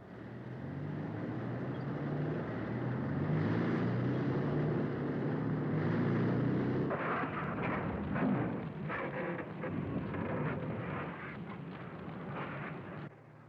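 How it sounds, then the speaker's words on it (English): Heavy recovery vehicle engines running with a deep continuous rumble, joined midway by rapid clattering pulses, loud and close throughout. "Recovery vehicle engines in transmission."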